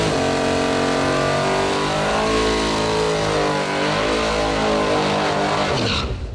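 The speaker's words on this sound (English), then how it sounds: "Using the line lock, Pat's going to do a 3-gear burnout." A 427 big-block S10 drag car roars through a sustained burnout on line lock, engine loud and close with rich revving harmonics, the note climbing and shifting across three gears for about six seconds before easing off at the end.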